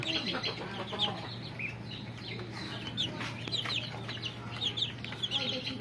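Fijel breed chickens cluck in repeated, uneven bursts over a steady low hum, some calls close and others farther off, with no talking.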